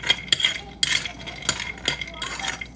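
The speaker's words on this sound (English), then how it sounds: "I'm going to stir fry the cashews a little bit" Cashews stir-fried in hot oil in a pan, with repeated sharp scrapes and clinks of a utensil against the pan over a light sizzle, close and irregular, no talking.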